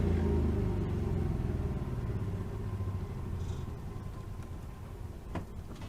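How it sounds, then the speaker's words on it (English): An RV generator drones with a steady low engine rumble close by, then fades and winds down as it is shut off, ending with a faint thump. "Let's turn the generator off and see how that goes."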